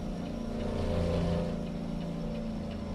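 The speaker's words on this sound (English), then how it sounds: "The one thing I like the sound of the Jake brake on this, but it's very loud." Engine rumble from a big Cummins-powered truck with a lope cam in American Truck Simulator, a steady loud low drone with layered harmonics holding for about three seconds, no talk over it.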